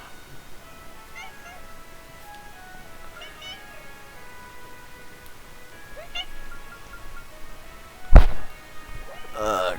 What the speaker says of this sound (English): Cat just showed up and got up on the microphone